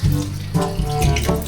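Water runs from a kitchen tap while ube yams are washed under it, a close, continuous gushing stream with a few shifts as the flow is broken by hands and tubers.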